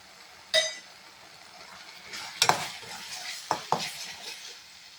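Masala for paneer peas butter masala fries gently in oil under a faint, even sizzle, while a spatula strikes and scrapes the pan in a handful of distinct, close clinks.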